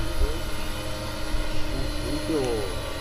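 A GPS-equipped octocopter drone flies steadily outdoors, giving a continuous loud buzzing rotor drone with shifting pitch throughout.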